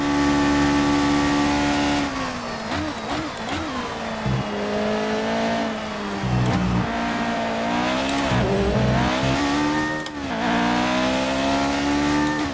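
The V8 of a McLaren MP4-1 Formula 1 car in F1 2018, a loud, steady engine howl that rises and drops sharply through gear changes and throttle lifts, with faint tire noise and no talking.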